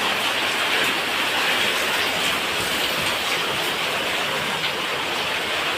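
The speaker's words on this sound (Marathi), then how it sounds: "पाऊस बघा थोडा जोराने येतोय बघा।" Heavy rain pours steadily outdoors at a sculptor's workshop making Ganesh idols, a dense even hiss filling the whole stretch with no pauses or voices.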